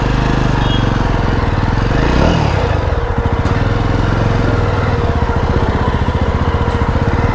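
Motorcycle engine running loud and close, a steady rough pulsing drone that holds throughout with slight shifts in pitch, on a rough, muddy off-road track.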